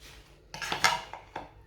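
Sweet tikkis tipped into a metal strainer and onto a plate, giving a few sharp clattering knocks of metal kitchenware in quick succession after a quiet start, close and fairly loud.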